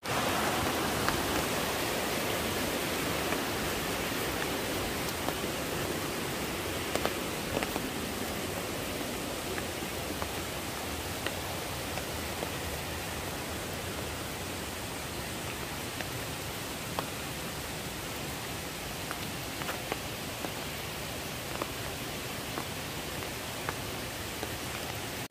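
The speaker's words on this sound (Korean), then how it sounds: "세련폭포" Seryeom waterfall in a forested valley near Guryongsa temple gives a steady, dense roar of falling water that stays constant throughout, with no voices.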